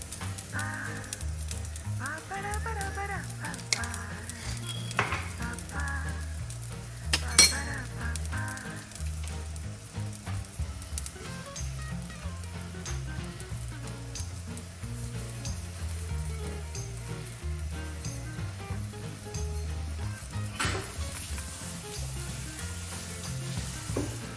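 An onion paratha fries in ghee on a hot griddle, giving a soft continuous sizzle with occasional clinks and scrapes, beneath low background music.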